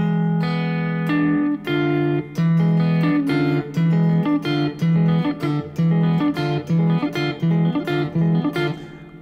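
Solo fingerstyle guitar plays a busy Stars and Stripes Forever arrangement, with quick plucked melody notes over a steady bass line, close and clear without talk.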